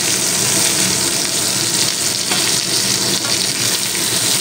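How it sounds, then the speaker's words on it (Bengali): Rohu fish pieces frying in hot oil over a high gas flame, a loud, continuous, hissing sizzle with no pauses, heard close up. "তো গ্যাসের ফ্লেমটা হাইতে রেখে মাছগুলো ভেজে নিলাম"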